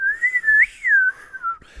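A person whistles in imitation of a slide whistle, a single close, loud tone that glides up and down for under two seconds.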